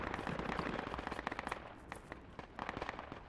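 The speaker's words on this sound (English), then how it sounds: "APC is shooting at us here." Automatic gunfire from an armored personnel carrier in the military shooter game Project Reality, rapid crackling bursts that roll on continuously at a moderate distance with no voices.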